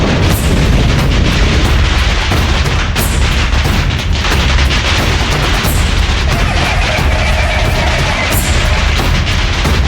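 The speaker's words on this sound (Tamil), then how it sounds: "நம்ம வீட்டுக்குள்ள வந்து யாருமா பட்டாசு வெடிக்கிறா?" Firecrackers burst in a rapid, dense barrage indoors at a home anniversary celebration, loud and continuous with crackling pops and booms running throughout.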